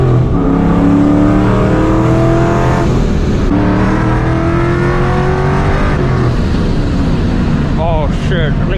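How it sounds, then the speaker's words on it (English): A Ford Mustang with a two-valve engine pulls hard in fourth gear, its loud engine drone climbing steadily in pitch as it accelerates, then faltering around the point the clutch fails, with a brief voice near the end. "Literally as soon as I grabbed fourth gear in the 2 valve"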